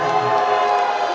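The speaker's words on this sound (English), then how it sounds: "Crowd obviously not happy with the call." Girls basketball crowd in a school gym reacting loudly to a referee's jump-ball call, a sustained wash of voices with shouting and jeering throughout.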